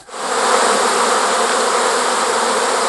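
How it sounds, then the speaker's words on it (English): A dense swarm of bees, 109 of them held inside a human mouth, buzzes loudly and steadily without a break, rising quickly at the start and then holding a thick, even drone. "109 bees held inside the human mouth for 10 seconds"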